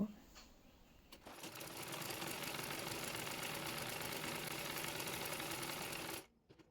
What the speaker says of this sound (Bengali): একইভাবে অপর পাশের সাইডটিও সেলাই করে নেব।